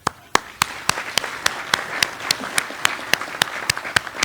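Sparse round of applause for county legislators at a San Juan County government meeting, a small group clapping in loose, separate sharp claps for about four seconds, fairly close and without talk.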